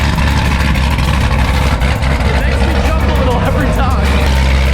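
A Volkswagen Corrado's engine runs steadily up close in a garage, a loud continuous low rumble throughout with no clear revving, while voices talk over it.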